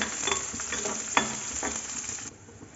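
Onions, cumin seeds and curry leaves sizzle in hot oil, a steady close frying hiss broken by several louder stirring crackles before it quiets near the end.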